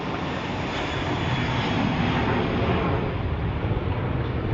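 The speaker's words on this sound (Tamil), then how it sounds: "ஒரு குட்டி ஃப்ளைட்டு" Small training airplane's engine drones steadily and loudly nearby, a constant broad roar that holds for several seconds with no voices.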